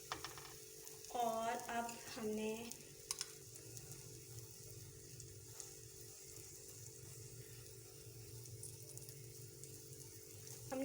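Buttered bread for garlic bread sizzles softly in a hot pan, a faint steady frying hiss with a few clinks, briefly under a woman's speech near the start.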